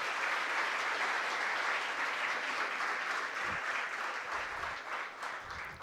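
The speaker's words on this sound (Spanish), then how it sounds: "Fuerte el aplauso para los clasificados." Sustained audience applause at a regional oratory contest final in Darién province, dense clapping throughout with low thumps and rumble underneath.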